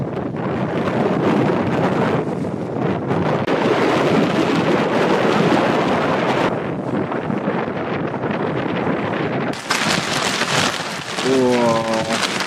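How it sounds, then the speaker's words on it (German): Strong wind gusts batter the microphone on an island, a loud continuous roar with rain-like hiss, briefly easing midway before surging again, ending with a faint tonal sweep. "Ist immer noch sehr windig"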